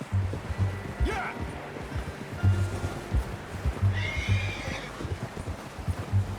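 In Red Dead Redemption 2, a horse gives a clear neigh and a later whinny over repeated clip-clop hoofbeats and rushing water, fairly close and prominent.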